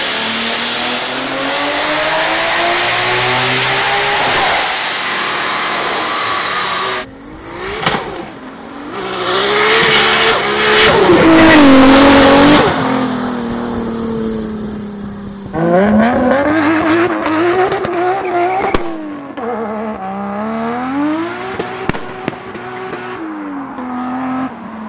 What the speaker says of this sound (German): weil dieser Motor, Supramotor, legendäres Geräusch